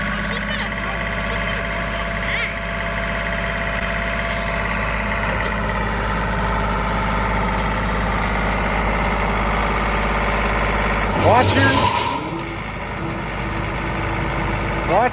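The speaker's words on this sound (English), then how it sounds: "It pretty much is her tractor, Blake." A John Deere tractor engine idles with a steady low rumble throughout, close and constant, and a brief clunk or shift near the end.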